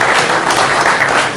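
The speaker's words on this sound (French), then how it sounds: "je demande beaucoup d'applaudissements avant qu'elle prenne la parole" Dense audience applause for a woman called Maman Tiano before she speaks at a birthday surprise event, steady and close, filling the whole moment with no voices over it.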